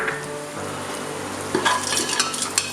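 Whole spices (cardamom, cinnamon, cloves) sautéing in ghee give a gentle, close sizzle, with a few brief stirring scrapes and clinks near the end of a short stretch.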